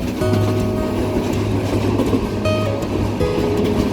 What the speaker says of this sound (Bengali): আমাদের ট্রেনটি কিন্তু স্টেশনের দুই নম্বর প্ল্যাটফর্মের ট্যাগ থেকে মেন লাইনে উঠে যাচ্ছে